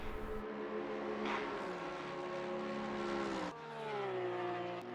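GT3 race cars, including a Porsche, at Spa in Assetto Corsa Competizione: a steady, loud engine drone with rising pitch through the gears and a brief shift partway through, running continuously without talk.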